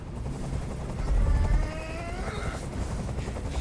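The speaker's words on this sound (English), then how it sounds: "I can't stand that noise anymore! Tell that helicopter to get out of here!" A helicopter hovers overhead in the video game Detroit: Become Human, its low rumbling rotor thrum steady and moderately loud beneath faint higher tonal sounds.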